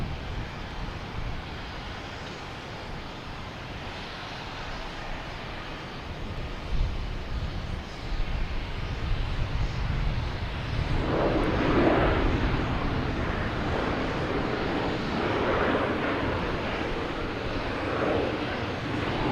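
A British Airways airliner departing Boston Logan Airport, heard as a distant, broad jet roar that swells midway and holds steady, with some wind noise on the microphone.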